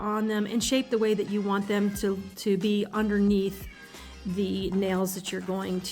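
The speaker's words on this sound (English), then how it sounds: "You can probably hear my cat in the background." A pet cat meows in the background of a room while a person talks steadily over it through the whole stretch.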